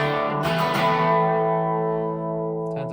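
A Mesa Mark IIB+ loop mod guitar amp with the gain cranked up holds a loud, heavily distorted sustained chord. It rings thick and saturated for about three seconds, with a small pick attack near the end.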